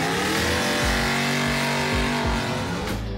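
A Daihatsu Xenia fitted with a Toyota 1UZ V8 engine revs hard nearby, its loud, throaty note climbing and dropping in repeated surges with a few sharp pulls and releases of the throttle.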